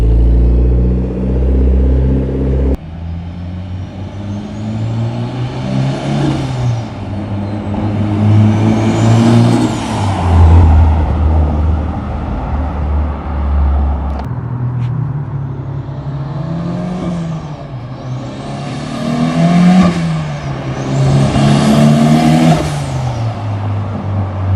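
Mitsubishi Evo 8 fitted with an AGT 52mm turbo driving past outside, its engine rumbling and revving up in several loud surges that rise and fall as it accelerates, with no talking.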